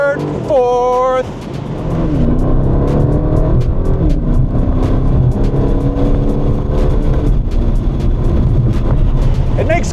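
An Aston Martin DB12 Volante grand tourer's engine revs up and settles with each downshift, roaring loudly and close up with steady wind and road noise throughout, while someone talks over it.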